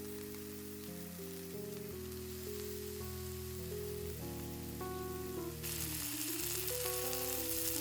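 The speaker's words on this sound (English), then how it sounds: "Just listen to the sizzle for a little bit" Vegan kebab skewers brushed with oil via a rosemary twig sizzle steadily on a grill, a continuous close crackling hiss, with tonal music playing throughout.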